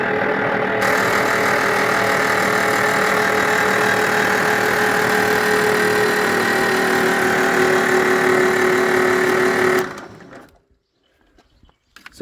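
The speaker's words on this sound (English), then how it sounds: "It's just spinning over with the starter." A 1949 Farmall M tractor engine with its spark plugs out spins steadily on the starter for about ten seconds, a loud, even mechanical whir that then cuts off, leaving near silence.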